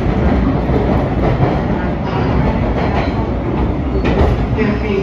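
Boston MBTA Red Line subway train runs on surface tracks past Andrew Station, a loud continuous rumble from inside the car, with rhythmic wheel clatter over rail joints and no voices.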